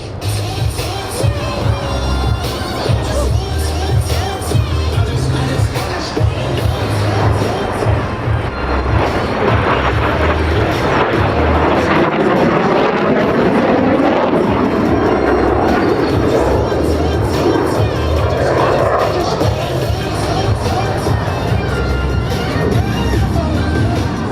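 U.S. Navy Blue Angels jets fly at the PAX River air show, a loud continuous roar that swells and shifts in pitch as they pass, with a crowd murmuring and a public-address announcer talking underneath.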